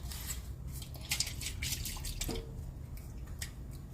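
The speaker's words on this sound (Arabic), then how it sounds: "ندير ليه شويه الماء باش ملي نبغي ندخلهم يطيبوا" A little water poured into food cooking in a pot makes a soft, brief trickle and light dripping over a low background rumble, fairly quiet and close.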